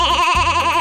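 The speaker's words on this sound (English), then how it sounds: "Kids, do you know which animal goes meh? It's the goat!" A video game goat on a farm gives one loud, close, wavering bleat that lasts nearly a second and stands alone.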